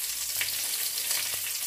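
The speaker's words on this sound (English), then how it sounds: "Saute the garlic." Garlic sautéing in a hot pan for seafood macaroni gives a steady, dense sizzle with a few faint stirring clicks, heard alone with no talk.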